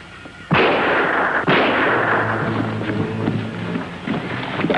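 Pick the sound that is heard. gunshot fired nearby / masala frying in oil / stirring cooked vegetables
gunshot fired nearby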